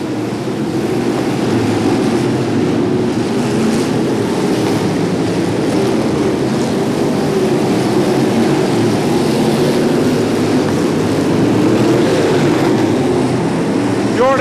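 Street stock race cars roar around the Macon Speedway oval during a feature race, a dense continuous wash of loud engine noise from many cars that stays steady for the whole stretch, with no voices breaking through.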